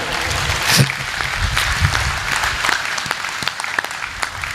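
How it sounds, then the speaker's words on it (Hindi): Steady applause from a crowd, sustained clapping at moderate loudness throughout, no talking over it. "तो एक बार जोरदार ताली बजाइए।"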